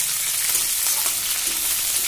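Chopped tomatoes go into a pan of onions fried until browned with torn green chillies, a steady loud sizzle of frying filling the short stretch with no talk.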